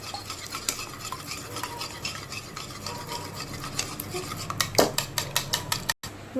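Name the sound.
beating eggs for loitta fish fry batter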